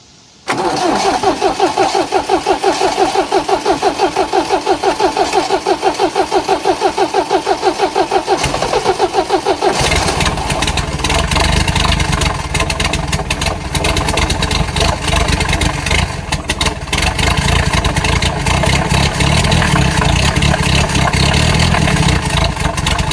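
A junkyard-turbocharged car engine cranks with a rapid rhythmic churn, then catches and roars into a loud, steady idle close by.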